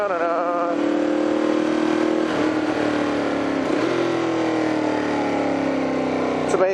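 A motorcycle engine revs on a wet urban road. The engine pitch rises and falls through several throttle swells, then drops back, loud and close, with no speech.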